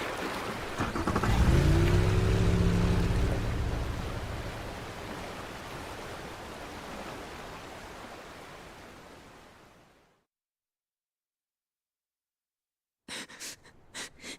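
In Like a Dragon: Pirate Yakuza in Hawaii, a boat engine opens up to full throttle in a loud, rushing roar with water wash that fades out to silence, followed by a few brief soft thumps.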